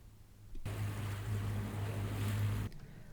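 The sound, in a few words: sailboat engine running at sea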